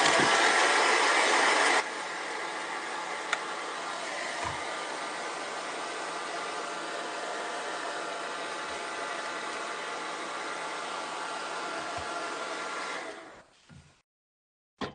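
A hair dryer blows a steady, close rush of air to dry craft paint. It runs louder for the first couple of seconds, then settles into a continuous hum before switching off.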